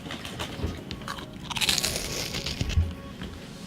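Close crunching of a cracker being bitten and chewed for ASMR: dense, crackly bites in quick irregular bursts, loudest in the middle, with no talking.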